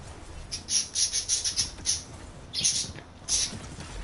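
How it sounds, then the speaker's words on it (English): Short high bird chirps come in quick bursts, several in a row, then a pause, then a couple more, fairly faint over a low background rumble. "I think the birds have something to say."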